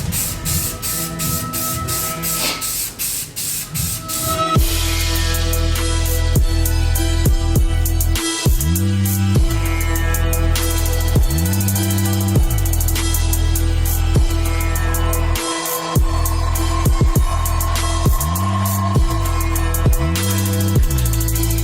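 A spray gun lays primer coats onto a car's engine bay, a loud close hiss in repeated bursts with brief pauses between passes and a steady compressor-like drone underneath.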